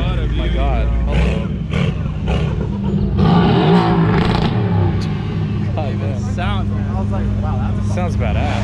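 Sports cars, including a Lamborghini Aventador, pull up at a car meet while engines rumble and rev loudly nearby, with people talking over the steady motor noise throughout.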